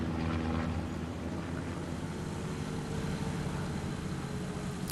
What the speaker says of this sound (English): Recon plane going up over the front line.